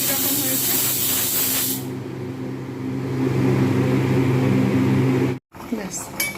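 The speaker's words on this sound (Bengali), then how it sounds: "এরকমভাবে আমি চারটে হুইসেল দিয়ে নেব" Pressure cooker whistling as steam is released while cooking Bengali mutton curry with potatoes, a loud sustained hissing jet that drops to a softer hiss, briefly cuts out, then sputters back.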